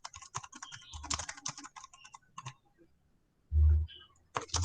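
Quick bursts of keystrokes clatter on a computer keyboard in uneven runs with brief pauses and one heavier thump, close by, with no talking.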